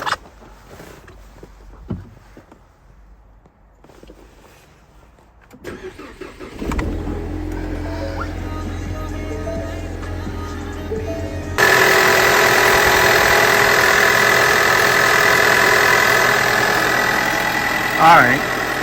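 Ford Mustang EcoBoost fitted with a new alternator cranks and fires up, settling into a loud, steady close-range idle after a quieter stretch with some handling noise.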